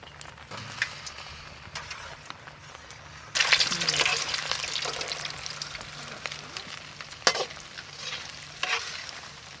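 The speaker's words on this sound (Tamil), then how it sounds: "பொறுமையாக வேகுது பார்த்தீங்களா இந்த மாதிரி நல்லா இது மாதிரி பொறிச்சாச்சுங்க" Balls of Milk Bikis biscuit gulab jamun dough fry in oil, a soft bubbling sizzle that swells louder partway through with scattered stirring clinks, while a person talks intermittently.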